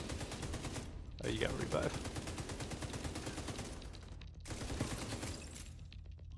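Rapid bursts of light machine gun fire in a video game shooter, sustained, with brief gaps and a voice speaking briefly over the shooting.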